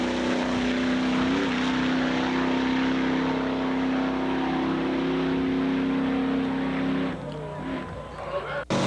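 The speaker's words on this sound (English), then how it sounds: "What happens when you stick a supercharged big block Chevrolet motor in the back end of a pickup truck?" A pickup truck with a supercharged big block Chevrolet engine runs at a drag strip, producing a loud, sustained engine drone that cuts off abruptly near the end.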